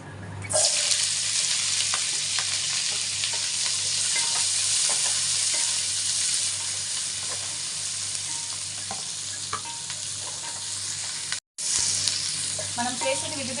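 Onions, carrot, cabbage and green chillies frying in hot oil in a pot on the stove, a loud steady sizzle with occasional stirring clinks, a brief break near the end, no talk.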